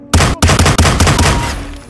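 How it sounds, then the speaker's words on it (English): Enemy gunfire in the Hitman video game erupts as a rapid burst of loud, close shots lasting under two seconds, fading at the end with no talking. "How are they shooting me?"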